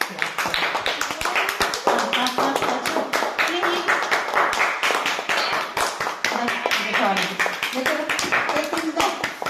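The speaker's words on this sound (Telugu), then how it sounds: "A claps claps" Rhythmic group clapping at a child's second birthday party, sharp, close claps in a steady beat throughout, with adults and children talking and calling out over them.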